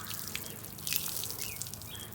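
Wet sanding of car paint on a 2010 Chevrolet Camaro SS with 1000-grit sandpaper, heard as soft, faint, watery scrubbing and dripping sounds close by with no talking.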